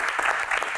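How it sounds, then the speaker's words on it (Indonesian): Audience at a Q&A event with badminton player Greysia Polii breaks into a short, loud, close round of dense clapping lasting under a second. "Tepuk tangan dulu."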